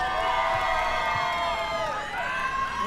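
A large crowd screams, whoops and cheers continuously and loudly at a bricklaying championship, a dense wall of voices with rising shrieks.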